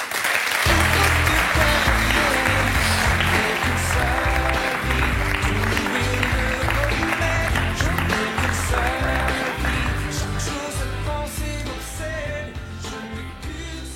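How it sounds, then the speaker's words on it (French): Sustained studio audience applause on a French TV talk show, loud, dense clapping holding steady for the whole stretch, with some music underneath. "Merci d'applaudir Fabienne"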